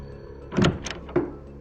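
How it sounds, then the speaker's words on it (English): A bedroom door opening in the horror game Corpse Party, a short creak and soft thuds over about a second, quiet and close against a faint background hum. "I opened my bedroom door and slowly crept downstairs."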